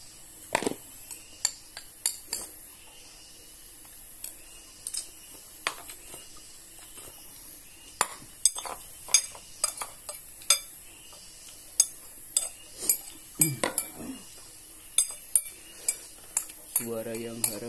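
Spoons, forks and plates clink during a meal while eating out, with sharp, irregular metallic taps and scrapes scattered across the whole stretch, some closely bunched, over a quiet background.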